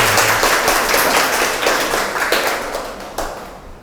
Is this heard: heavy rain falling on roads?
no